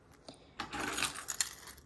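Keys jangling on a Kate Spade leopard-print keychain cardholder, a short bright metallic rattle and clink that swells after a quiet start, close by and alone.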